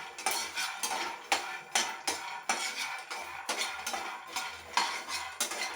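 Groundnuts dry-roasting in a metal pan as a spoon scrapes and stirs them, giving a run of regular rattling, clinking strokes about once a second over a faint background, with no voices.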